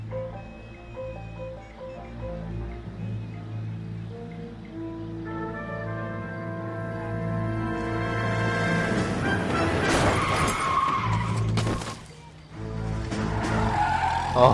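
A car skids with squealing tires during a hit-and-run in the video game L.A. Noire, engine tones rising to a loud screech near the middle, then a brief drop and another sharp burst at the end.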